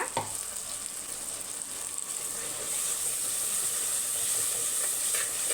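Onions, tomatoes and ginger-garlic paste frying in a pan for chicken biryani, giving a steady close sizzle and hiss that holds throughout without talk.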